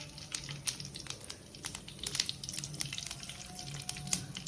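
Onions fry in hot ghee, a faint steady sizzle broken by scattered crackles and pops, with occasional stirring sounds close by.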